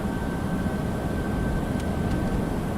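Jetstar Asia Airbus airliner taking off slowly on a long runway with reduced flex thrust in Flight Simulator X, heard as a steady broad engine roar with a constant whine, loud and unbroken throughout.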